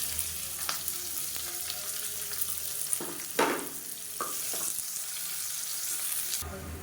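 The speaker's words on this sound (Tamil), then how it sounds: "நீளமாக நறுக்குன்னு பெரிய வெங்காயம் சேர்த்துக்கலாம்." Long-sliced onions fry in oil in a cooker, a steady close sizzle broken by scraping stirs and a louder burst in the middle as they are moved around.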